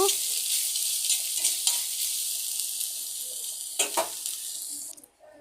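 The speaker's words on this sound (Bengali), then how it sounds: "এখন নারকেল বাটাটা ছেড়ে দিচ্ছি, একটু নেড়ে চেড়ে নেব।" Coconut paste with chilli powder, turmeric and salt is stirred in a hot pan, giving a bright, steady sizzle broken by a few scraping stirs near the end before it cuts off.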